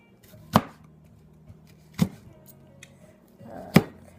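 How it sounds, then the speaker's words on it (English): Three sharp, evenly spaced knife chops through kale on a cutting board, each a crisp close thud against a quiet kitchen background. "Maybe I'll slice it once in half once I finish cutting all the way through."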